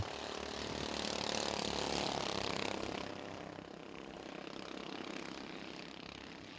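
Race engines at a green flag start at Baer Field Motorsports Park, heard as a faint, distant, steady drone of many engines that swells for a few seconds and then settles to a lower, even hum.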